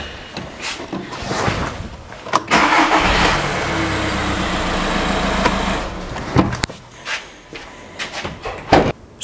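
A 2009 Audi A3 diesel engine cold starts after a few clicks and cranking, catches within a couple of seconds and idles steadily, then is shut off, followed by scattered clunks and handling noises nearby.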